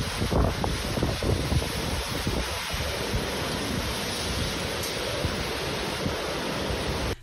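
Strong Storm Aurora wind gusts roar continuously and loudly across the microphone in northern France, a dense, buffeting rush with heavier bursts early on.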